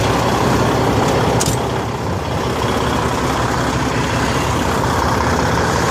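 A semi truck with a Cat 550 engine and 13-speed transmission idles in line at a loading site, a loud, steady, close diesel rumble throughout with no speech.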